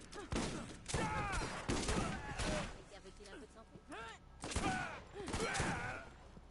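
Gunfire in the video game Borderlands 1, dense rapid bursts of shots running almost continuously under someone speaking French over them.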